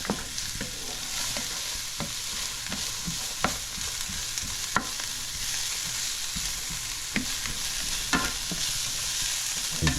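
Carrots stirred and sizzling in a hot pan for a shepherd's pie base, a steady frying hiss with scattered clicks of a spoon scraping the pan, no talking.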